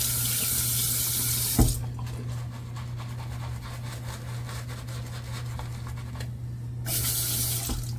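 Bathroom tap running into a sink while shaving, a steady hiss of flowing water that briefly cuts off and then resumes near the end.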